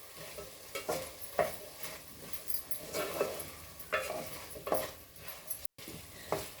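Vegetables for a vegetable pulao are stirred in a pan of hot oil and ghee with garam masala, a steady frying sizzle broken by repeated scraping strokes of a spoon against the pan.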